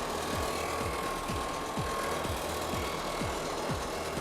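A CNC machine shaping a foam surfboard blank gives off a steady close-up mechanical whir with evenly spaced rhythmic pulses repeating about every third of a second, and no voices.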